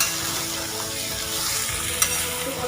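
Chopped ash gourd for a vegetarian sukto fries in a pan with a loud, even sizzle, close up, plus one brief utensil tap near the end and no talking.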